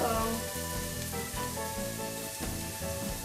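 Onions sizzle and fry steadily in a pan for a Cajun shrimp étouffée, a continuous close crackling hiss with faint spatula scrapes, alone without talk.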